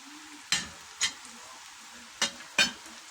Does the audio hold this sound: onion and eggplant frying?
yes